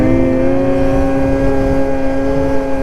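A 2023 Ski-Doo Renegade X-RS 850 snowmobile engine pulls hard under acceleration, a steady loud droning whine with strong tonal harmonics held continuously and close throughout.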